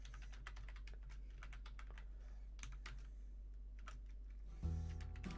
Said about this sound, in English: let me know when you're done typing that up